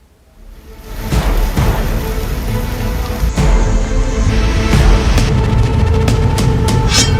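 Heavy downpour in Mumbai, a dense steady hiss of rain with scattered drips and splashes, fading in quickly and holding loud and close throughout, with no voices.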